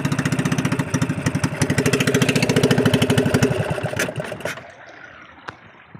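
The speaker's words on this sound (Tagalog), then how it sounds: "Patayan tayo ng makina." A small fishing boat's motor runs with a steady rapid chugging, loud and close, then cuts off abruptly about four and a half seconds in, leaving faint water and ambient noise.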